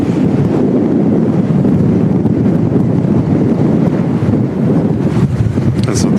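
Strong, gusty wind during Storm Claudio at Manchester Airport buffets the microphone with a loud, continuous roar that surges and eases throughout, with no talk.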